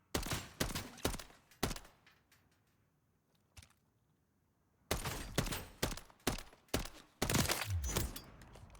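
MCW rifle shots in a video game, fired at target plates: sharp, loud single cracks in spaced bursts, several in quick succession, a quiet gap, then another cluster of rapid shots with ringing impacts.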